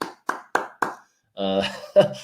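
Four sharp hand claps in an even rhythm, close and loud, followed by a burst of talk or chanting from a group of cricket players gathered before the opening batters walk out.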